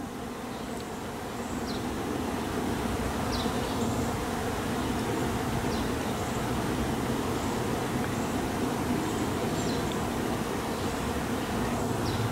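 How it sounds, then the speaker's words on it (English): A honey bee swarm buzzes steadily in a dense, continuous drone, many bees close by with no pauses, occasional individual insects whining past above the hum. "it's a full-fledged swarm"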